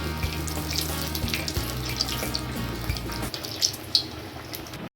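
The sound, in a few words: potato koftas frying in oil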